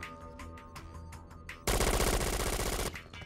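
Gunfire in the video game Syphon Filter: Dark Mirror: a few scattered shots give way to a loud, sustained burst of rapid automatic fire, heard alone without talk.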